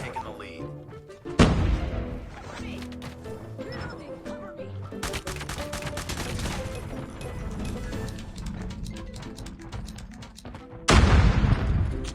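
Gunfire in the mobile shooter Call of Duty Mobile bursts out in loud, rapid volleys and sharp blasts over game music and effects, with sudden heavy hits at the start and near the end.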